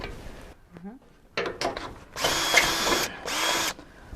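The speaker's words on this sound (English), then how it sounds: "now that we got the hole drilled" Power drill boring a half-inch hole through metal while fitting a Victory 4x4 skid plate to a 3rd gen Toyota Tacoma, a few short bursts followed by two sustained loud drilling runs, close up with no talk.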